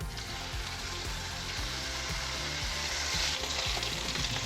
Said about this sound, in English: So I got to sear these fish in the smaller one.